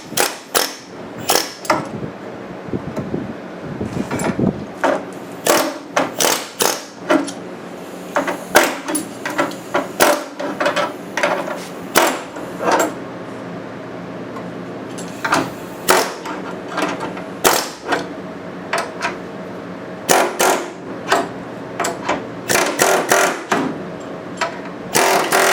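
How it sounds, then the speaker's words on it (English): Air chisel cutting out spot welds on a car's rear quarter panel, firing in loud, repeated sharp bursts with brief pauses between them in a body shop. "He's got the air chisel and he's just cutting out the rivets, not the rivets, but the spot welds"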